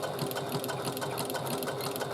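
A sewing machine runs continuously, stitching a seam along the lining of a handmade bag, its steady motor whir and rapid needle rhythm close and unbroken, with no talking.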